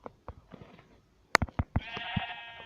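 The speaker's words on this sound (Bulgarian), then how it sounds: "Си ударя две овце." Sheep in the Minecraft video game bleat in short, close calls over a few quiet thuds, ending in one longer, wavering bleat.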